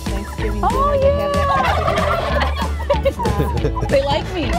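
Heritage turkeys on a turkey farm gobble loudly in overlapping bursts from a flock close by, with people talking among the calls.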